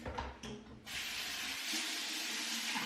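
Cold tap water runs steadily from a faucet into a sink while the face is being wetted, close and continuous, with a brief splash of handling at the start and no talking.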